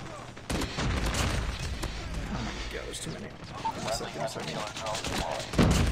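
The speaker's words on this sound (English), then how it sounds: "Deagle is so fun, man. When the shots hit, it's just so satisfying." Rapid pistol shots from a Desert Eagle in a first-person shooter game crack out repeatedly over busy game noise, with sharp bursts spread through the stretch and a louder one near the end.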